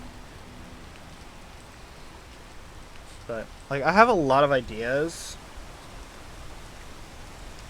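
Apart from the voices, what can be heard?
rain falling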